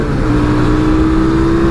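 A 2023 QJ Motors SRV 550 motorcycle pulls hard from a standstill to 100 km/h, its engine roaring loud and steady and rising in pitch through the whole stretch, with no voices.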